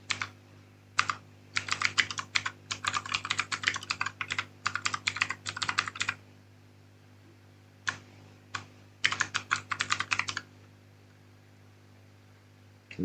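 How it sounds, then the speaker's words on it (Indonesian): Typing a name on a computer keyboard in a text editor: dense bursts of rapid key clicks in several runs with short pauses, close and clear over a steady low hum, no talking. "Saya akan ketik nama saya lewat keyboard."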